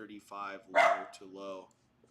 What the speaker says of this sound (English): about the dog barking